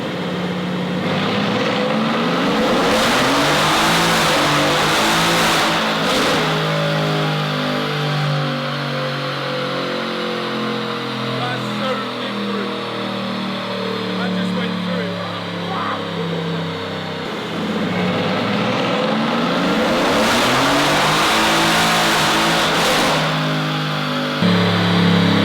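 Tuned Mercedes-AMG GT on a dyno power run, engine revving loudly and climbing through the gears with rising pitch sweeps and brief shift breaks, a second hard pull near the end, close and dominant.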